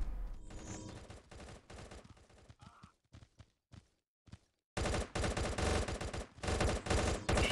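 Automatic gunfire from the shooter game Gods of Boom: loud rapid bursts, a stretch of scattered single shots and near silence, then another long, heavy burst of sustained fire.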